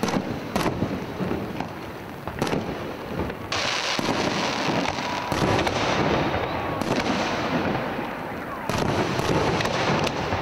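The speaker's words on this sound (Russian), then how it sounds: "со сцены был объявлен праздничный салют." A festive fireworks display crackles and booms continuously, dense popping and bursts layered into a loud, sustained roar outdoors at night, with faint crowd noise beneath.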